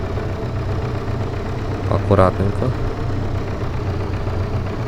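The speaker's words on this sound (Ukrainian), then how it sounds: "Трактор працює, мені подобається." A tractor engine in Farming Simulator 22 idles with a steady low rumble throughout, while someone talks briefly over it.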